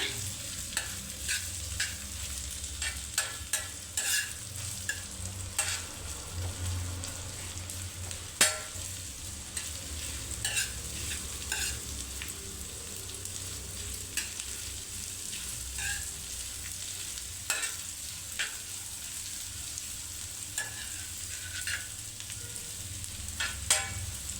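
Onions fry in a pan with eggs while being stirred. A steady, crackling sizzle runs throughout with frequent scraping strokes of the spatula. No one speaks.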